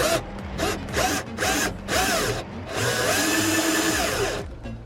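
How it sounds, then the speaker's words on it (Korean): A power drill bores a 16 mm hole for a switch in a car mirror housing, whining in several short bursts before running in one longer steady stretch, loud and close. "이게 지금 16mm니까 16mm 지금 지름으로 구멍을 뚫는 거고요"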